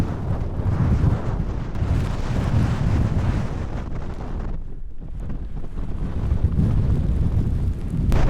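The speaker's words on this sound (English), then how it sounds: "it's windy again." Strong, steady wind from Storm Amy roars and buffets a microphone, with a low rumbling that barely lets up except for a brief lull midway.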